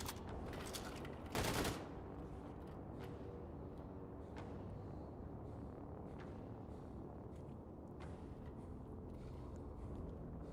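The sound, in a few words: grenade explosions in a video game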